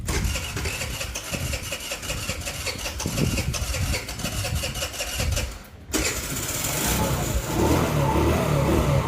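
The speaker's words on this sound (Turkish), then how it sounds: "zor çalışıyor ve motorumuz gazı bıraktığımız zaman istop ediyor" A car engine running rough and stalling when the throttle is released, a steady uneven mechanical drone that cuts out abruptly near the middle, then restarts and runs on loudly.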